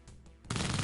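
A unit firing all four of its guns in Xcom, a quiet lead-in followed by a loud, sustained roar of gunfire in the last half second.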